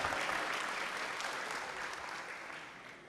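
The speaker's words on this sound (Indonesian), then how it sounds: "Boleh tepuk tangan sekali lagi buat Rahma" An audience at an Indonesian campus talk applauds a grade 11 student named Rahma: a dense, steady wash of many hands clapping close by, fading slightly toward the end, with no voices.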